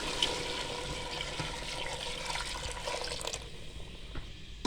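Beef stock (yakhni), about one and a half litres, is poured into a kilo of rice for Karachi-style beef pulao biryani, a steady rushing, splashing pour that runs throughout and thins slightly toward the end.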